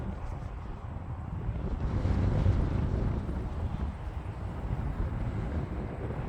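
Strong wind buffets the microphone at an RC plane flying field where a ParkZone P-51 Mustang flies, a steady broadband roar that swells slightly midway and holds for the whole stretch with no voices.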